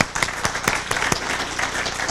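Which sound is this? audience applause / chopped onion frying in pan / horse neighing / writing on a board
audience applause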